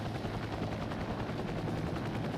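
A Chinook helicopter in the Heliborne video game, heard as a steady, dense rotor roar with a rapid crackling texture, continuous and even throughout.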